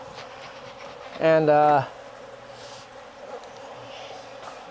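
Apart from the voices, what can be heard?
honey bees buzzing at an open beehive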